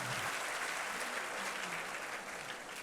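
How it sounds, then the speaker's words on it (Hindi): An audience claps steadily through a college induction program, a continuous, even wash of many hands at moderate-to-soft level with no clear voices on top. "हाँ, तो ताली वाली बजाया करो भाई।"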